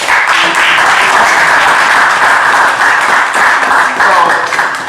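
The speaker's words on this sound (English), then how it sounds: "Clap if you love your mama" An audience claps loudly and steadily at an achievers' event, a dense crowd applause sustained for the whole stretch with a murmur of voices mixed in.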